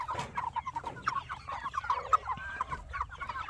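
Seven-week-old broiler chickens in a chicken tractor cluck and chatter close by, a busy run of short overlapping calls with no talking.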